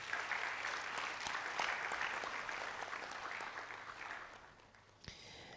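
Audience applause at an official college launch, a steady round of many hands clapping that fades toward the end, followed by a brief knock.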